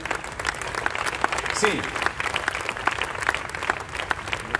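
Crowd at a Goa Christian Federation human rights protest clapping for a group of gentlemen, steady applause running throughout while someone speaks over it, inviting people forward.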